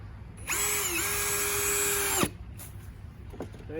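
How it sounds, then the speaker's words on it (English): A power drill drives a screw into a wooden fence picket in one steady whine of almost two seconds. The pitch dips briefly as it bites, then it cuts off, followed by faint handling noises. "We drill it in."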